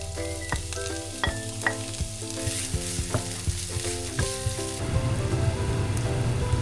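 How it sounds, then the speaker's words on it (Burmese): Garlic and onion sizzle in hot oil in a pot for egg fried noodles, a steady crackling fry broken by clinking stirring strokes and swelling louder near the end. "ခောက်ဆွဲစကြော်ပါတော့မယ်အိုးထဲကိုစီးထည့်ပြီးတော့ကြတော့ကျက်သွန်မြူကျက်သွန်နီတွေကိုစီးတက်လိုက်ပါတယ်"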